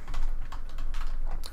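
Rapid, uneven clicking of computer keyboard keys typed on a Linux system, a continuous close-up patter of keystrokes with no voices.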